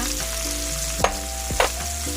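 Marinated pork fries in a pan with a loud, steady sizzle close by, broken by two quick stirring scrapes, and no voices.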